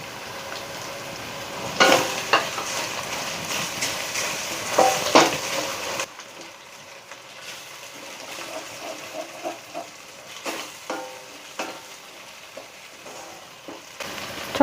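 Tomato, cashews and green chillies frying in a pan for mutton curry, a loud sizzle with stirring clatters at first, then a quieter simmering crackle punctuated by soft spoon taps.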